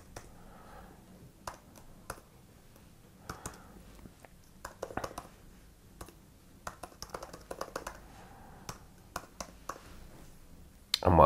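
Keys clack on a computer keyboard as a web address is typed, scattered light taps in short irregular bursts, close and fairly quiet with no talking.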